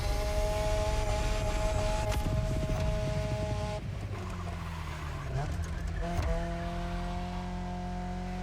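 A Nissan 240SX S14 engine in The Crew Motorfest racing game holds a steady, loud drone with a shift in pitch partway through, playing continuously without pause.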